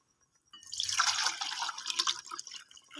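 Water poured into a cooking pot to boil for vermicelli, a steady splashing stream that starts abruptly after a brief silence and runs on close and moderately loud, trickling at the end.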